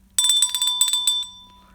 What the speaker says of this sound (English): I'm going to ring the bell for Jose here.